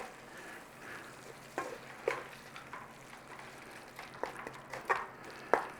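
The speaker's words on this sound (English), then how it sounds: "Back in there, our corned beef. Just give it a little break up and stir it in." Corned beef broken up and stirred into a thick keema-style curry in a pan, a soft low simmer with scattered spoon scrapes and clicks rising above it, no voices.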